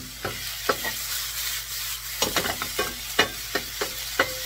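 Chicken, vegetables and noodles stir-fry in a pan over medium-high heat, a soft sizzle broken by irregular scraping and clacking strokes of a spatula, close and clear, with no talking.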